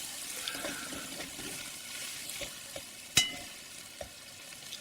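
Cabbage frying in a pan with olive oil, stirred with a spoon: a soft, steady sizzle runs throughout, broken by a few light scrapes and one sharp clack around the middle, with no voices.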